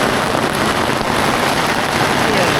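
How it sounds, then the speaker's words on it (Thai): Heavy rain falls outdoors near the headwaters of the Loei River in Thailand, a steady loud hiss of drops that continues unbroken throughout. "ฝนลงซะแล้ว"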